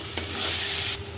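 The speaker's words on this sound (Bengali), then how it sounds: "মশলাটি কষিয়ে নেব।" Masala seasoned with salt, turmeric and sugar sizzles and is stirred in a pan for kadai paneer. A steady, close hiss with scraping runs through the whole brief moment, with a sharp tick near the start.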